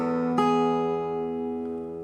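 A single fingerpicked guitar phrase, with the middle finger pulling the first string: one strong plucked attack rings out with sustained harmonics and slowly decays, played alone with no voices.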